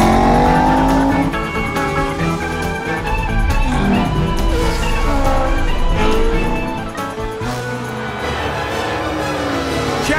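Animated race cars roar past on a track with a 360-degree loop bridge, engines whining and rising in pitch with tire squeals, loud and continuous against a dense music-like backdrop.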